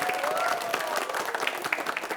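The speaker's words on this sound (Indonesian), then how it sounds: "tepuk tangan kembali untuk Regu A" Students and audience at a televised SMA quiz competition clapping for Team A, a steady rush of applause with a few voices rising over it and sharper individual claps near the end.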